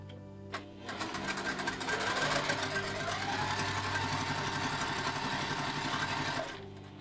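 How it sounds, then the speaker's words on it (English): A sewing machine runs steadily for several seconds, stitching through quilted Christmas stocking fabric, its fast even motor chatter close and loud after a brief start, then stopping near the end. "Back to the machine to sew that"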